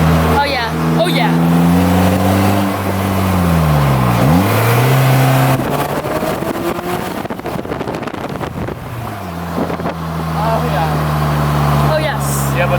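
A Polaris Slingshot three-wheeler's engine revs up and down while driving, with pitch rising and falling across several throttle swells, close and loud against steady wind rush.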